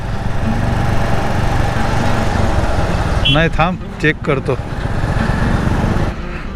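A motorbike engine runs steadily on a highway ride toward Mumbai, its drone continuous throughout, with someone talking briefly over it midway.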